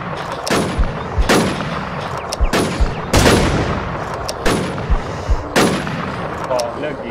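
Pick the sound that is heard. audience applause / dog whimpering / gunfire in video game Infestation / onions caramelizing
gunfire in video game Infestation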